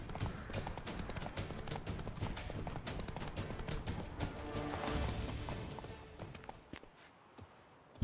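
Hooves of a horse clip-clop steadily in The Witcher 3: Blood and Wine, a dense rhythmic run of hoofbeats with game ambience that thins out and fades near the end.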